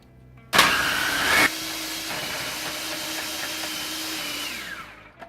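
A food processor whirs steadily while grating cheese, starting with a loud burst and settling into a continuous motor drone of several seconds before winding down, with no talking.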